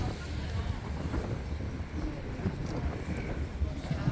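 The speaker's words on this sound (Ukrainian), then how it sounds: "тут дуже-дуже дує" Strong wind buffets an open terrace with a balcony at Topkapi Palace in Istanbul, a steady broadband rumble and roar across the whole clip, close and fairly loud.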